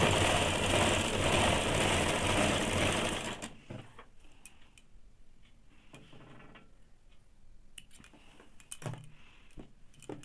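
A sewing machine stitching a blouse runs steadily and loudly for a few seconds, then stops, leaving faint ticks and small handling clicks of fabric and machine.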